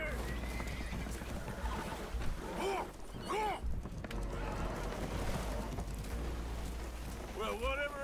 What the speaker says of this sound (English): The horses are confused. We need to round them up.